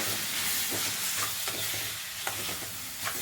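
A spoon steadily stirs a salted, grated-cucumber poha mixture in a pan, with a continuous soft scraping and sizzling texture and a few faint clinks, close up and with no voices.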